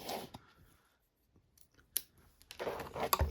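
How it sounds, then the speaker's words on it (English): Plastic protective wrapper being pulled off an NVVV EDR120 24V industrial power supply, heard as a few short crinkling, rustling bursts separated by quiet gaps, close and fairly soft. "So let's take off this little wrapper."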